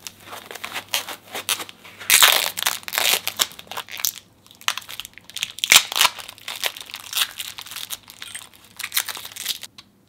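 Moza brake performance kit parts for the R5 brake pedal being unwrapped from foam packaging, giving a continuous run of close, loud plastic crinkling and crunching with sharp bursts, and no talking.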